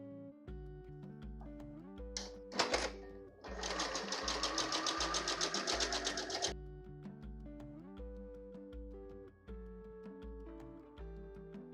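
A sewing machine quilts a patchwork heart pillow in a rapid mechanical stitching burst of a few seconds, set against soft background music that plays throughout.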